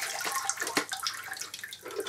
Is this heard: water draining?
yes